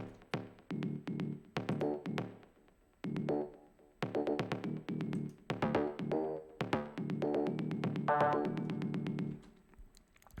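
Fuzz guitar sample from a Fairlight layered into a song's second verse, heard as bursts of chords that start and stop with short gaps, within a fairly quiet full-band mix and no speech.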